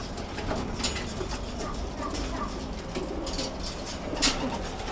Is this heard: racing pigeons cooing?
yes